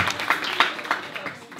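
Audience at a stand-up comedy gala claps in a brief, dense burst of hand claps filling a small room, fading slightly toward the end.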